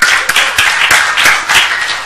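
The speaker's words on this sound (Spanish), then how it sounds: "Un aplauso para el equipo rojo." Close, loud clapping from a group cheering the winning red team at a quiz game, a brisk burst of hand claps over about two seconds.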